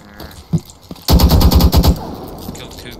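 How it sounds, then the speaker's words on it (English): Automatic gunfire in the online shooter State of Anarchy rips out in a loud, rapid burst of about a second, following a couple of isolated single shots, with quiet game ambience around it. "I'm being shot at."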